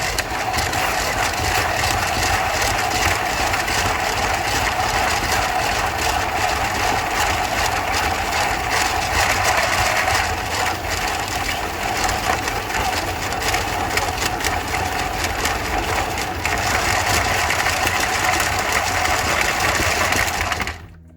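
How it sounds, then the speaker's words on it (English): An electric blender runs steadily while whipping homemade body butter, a loud, continuous motor whir that holds for about twenty seconds and then stops abruptly. "we're gonna put our blender in, see how it just pops in there, nice and smooth. And we're gonna turn that on just to start mixing."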